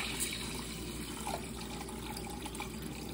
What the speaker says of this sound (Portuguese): E agora eu coloco água filtrada